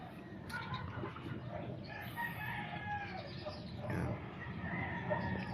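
Chickens being fed poultry feed, with steady clucking and occasional crowing from a flock nearby over a constant farmyard background, with no clear talk.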